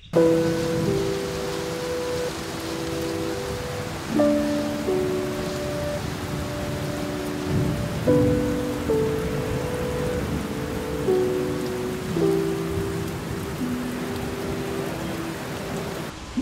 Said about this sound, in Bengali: ঝমঝমিয়ে বৃষ্টি শুরু হয়েছে, আমরা আটকে পড়েছি